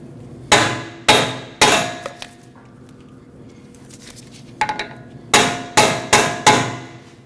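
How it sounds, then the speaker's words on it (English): Sharp metallic ball peen hammer blows on a socket, driving a rear axle into a Jeep Cherokee wheel bearing, ring out close by, three in quick succession, a pause, then five more strikes, each with a short ringing decay. "take a ball peen hammer, put it inside this socket, and hit it with another hammer"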